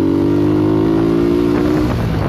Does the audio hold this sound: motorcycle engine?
yes